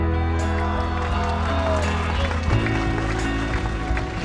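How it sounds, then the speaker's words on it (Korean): Crowd applause and cheering at a Korean political rally, a continuous wash of clapping and voices throughout, fairly loud and close. "더 큰 격려의 박수 보내주십시오"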